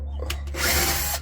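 A power drill drives a screw while a three-to-four blade propeller is being assembled, one short close whirring burst that rises and then stops.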